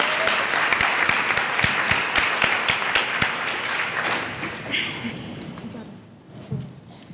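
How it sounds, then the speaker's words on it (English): A crowd at a community schools forum applauds young debate league performers, dense clapping with some sharper individual claps that gradually thins and fades out toward the end. "please give them a round of applause."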